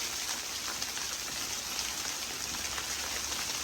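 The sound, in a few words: rain falling on chicken coop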